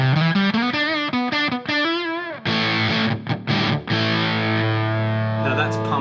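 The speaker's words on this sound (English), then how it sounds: "Octave fuzz on." An electric guitar played through a HeadRush octave fuzz effect into a clean Black Prince amp model gives loud, thick, distorted notes, first a quick run of sliding notes, then sustained chords with brief gaps.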